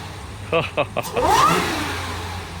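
A few short knocks and voices, then the supercharged engine of a B8.5 Audi S4 revs up quickly in one rising burst and settles into a lower idle.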